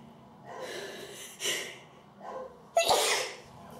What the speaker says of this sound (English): Excuse me, I'm going to have to sneeze.